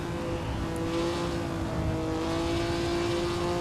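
A Maserati race car engine at the 1957 Indianapolis 500 round of a historic Formula One racing game, droning loudly at a steady pitch with a slight rise near the end, with no talk.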